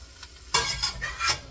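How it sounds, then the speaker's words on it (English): Asparagus soup base being stirred in a pot, a utensil scraping in a few separate strokes over a soft simmering hiss, close and moderately loud. "I've been stirring this a little bit for about a minute, minute and a half."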